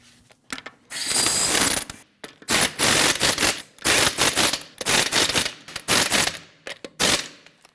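A hand ratchet snugs the lug nuts on a 2012-2016 Honda CR-V during a front brake hose job, loud close bursts of rapid clicking repeated about seven times with short pauses between.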